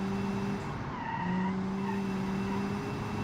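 A mid-engine rear-wheel-drive car in BeamNG.Drive brakes hard, its tires squealing in sustained tonal skids over the steady drone of the engine, fairly loud and close.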